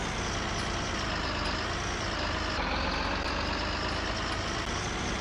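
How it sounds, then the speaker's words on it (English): Steady, moderately quiet rumble of an idling truck engine in Farming Simulator 19, constant and unbroken with no voices. "This truck sounds good too."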